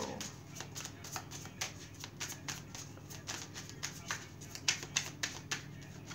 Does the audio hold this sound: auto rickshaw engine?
no